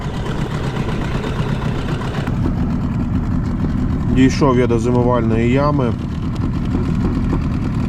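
A boat motor runs steadily on a river in November while pike fishing, a constant low droning hum throughout, with someone talking briefly over it midway.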